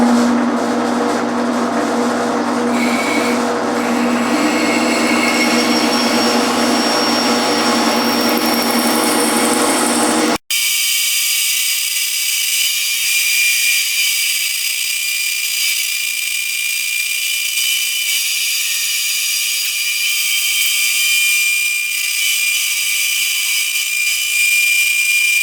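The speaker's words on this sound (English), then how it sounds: "The bandsaw will do a fine job of cutting the lines." A bandsaw cuts a solid cherry ukulele neck blank, a steady loud whine and grinding rasp for about ten seconds, then the cut stops abruptly and the saw keeps humming with a high tonal ring.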